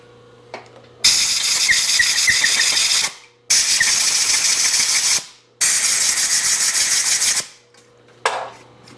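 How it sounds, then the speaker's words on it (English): Compressed air blasting through a 1978 Suzuki RM250 motorcycle cylinder in three long hissing bursts of about two seconds each, loud and close, with a short final puff in a quiet workshop. "So I'd probably get it out with some compressed air."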